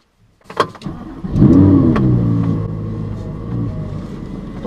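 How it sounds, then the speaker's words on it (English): An Audi R8 V10 Plus cold start: a few clicks and a crank, then the engine catches with a loud rising rev that settles into a throaty, fairly steady idle, close by with no talk. "Always sounds good on a cold start."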